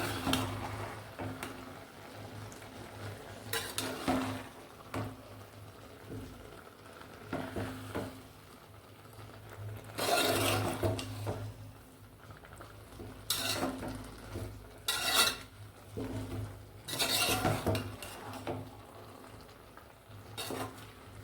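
Kasi halwa cooks in a pan on a low flame, with intermittent scraping stirs and soft clatters of the spoon against the pan over a faint background hum. The sounds are quiet and come in irregular bursts.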